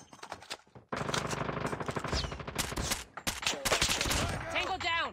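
Automatic gunfire in Call of Duty Mobile: a loud, rapid stream of shots after a few scattered opening pops, continuing nearly unbroken with short breaks and sharp overlapping bursts up close.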